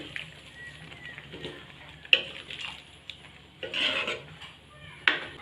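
A utensil scrapes and stirs boiled chickpeas in a pan, with a few sharp metallic clinks and short rubbing bursts in a quiet kitchen.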